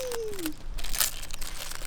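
Protective film peeled off a new aftermarket tail light for a BRZ/FRS/86, heard as close, crinkly plastic crackling and tearing for under two seconds, with no talk over it.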